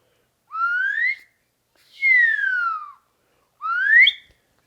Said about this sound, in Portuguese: isso daqui é feito de bambu, e aí é como se fosse uma flautinha. Mas não é uma flautinha, é um apito.